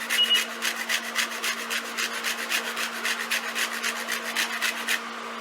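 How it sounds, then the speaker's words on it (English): A lemon rubbed against a zester for a stuffed clam recipe, heard as a close, loud run of quick regular rasping strokes over a steady low hum, with no talk. "Also want to do zest of a lemon."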